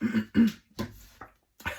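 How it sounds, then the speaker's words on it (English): Several short throat-clearing grunts and rough coughs in a row, close and fairly quiet, separated by brief pauses. "I'm clearing my throat and stuff."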